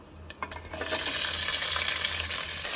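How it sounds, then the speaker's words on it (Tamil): Chopped onions sizzle in hot oil in a pan while a spoon stirs them for vegetable dum biryani, a loud continuous fry with a few sharp clinks of the utensil early on, no voices. "வெங்காயம் கொஞ்சம் பொன்னிறமாக வர வரைக்கும் வதக்குங்க."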